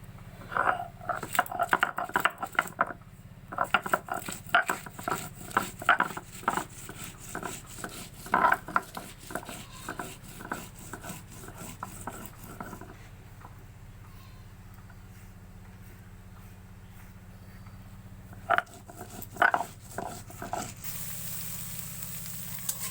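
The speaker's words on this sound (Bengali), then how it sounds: "এই যে কাঁচা লঙ্কা, পাকা লঙ্কা বেটে নিচ্ছি।" Green and red chillies being ground on a grinding stone in a home kitchen, a repeated scraping rub in bursts with pauses, close and fairly loud, with background kitchen noise.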